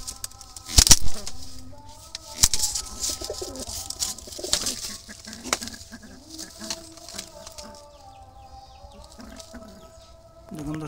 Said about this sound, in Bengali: দেখুন দর্শক, এখানে একটা কালো জালালি কবুতর আছে